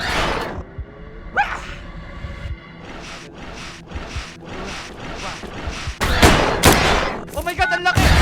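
Gunfire rings out in a convenience-store horror video game, with sharp bursts and a rapid volley near the end, heard over game ambience and a player talking.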